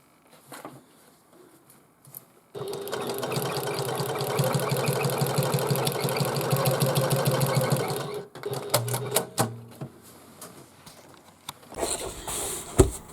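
A sewing machine stitches a bag in one steady, close run of about six seconds, followed by shorter start-stop bursts and rustling handling of the fabric.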